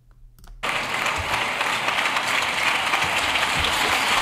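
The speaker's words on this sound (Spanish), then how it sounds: "Fíjate cómo aplaude Fijo" Applause from a crowd in a played recording of a political session, a sudden burst of dense clapping that starts after a brief quiet moment and continues steadily and loudly to the end.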